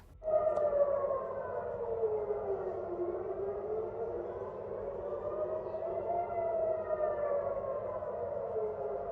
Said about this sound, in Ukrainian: Сигнал повітряної тривоги, вибухи та робота системи залізний купол